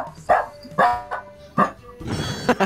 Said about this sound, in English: Puppy! It's a puppy! It's an old puppy.